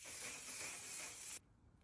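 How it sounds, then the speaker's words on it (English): Waterproof makeup setting spray mists onto a face in one close, continuous hiss lasting over a second, then cuts off abruptly into quiet. "And then we go in with this guy, One Size Waterproof Setting Spray."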